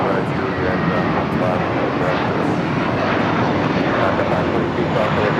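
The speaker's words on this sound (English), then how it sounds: "There's a American A321 taking off." An American Airlines A321 airliner takes off at LAX, its engines a loud, steady broadband roar that continues unbroken throughout, with voices talking over it.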